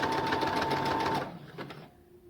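Sewing machine running a zigzag stitch at 2.5 length and width, a steady close mechanical whir with rapid needle chatter that stops abruptly partway, leaving faint clicks and room tone.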